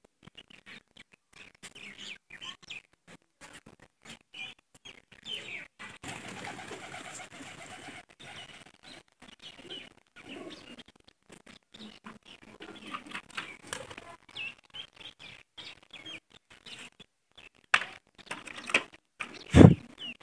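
Young pigeons practise flying, with irregular wing flaps and flutters alongside soft cooing, ending in a louder burst of flapping.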